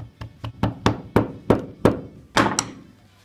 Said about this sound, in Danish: Og så hammer vi bare.